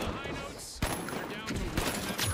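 Shotgun fire in the video game The Finals: a sharp blast followed by a couple more quick shots amid busy game noise, fairly loud and close.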